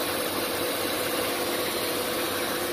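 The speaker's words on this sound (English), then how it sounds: "Both of them just turned on to cool the engine." A car's twin radiator cooling fans whir steadily alongside the engine idling, a constant dense rushing drone with a low vibrating hum underneath, unchanging and close throughout, on an overheating engine.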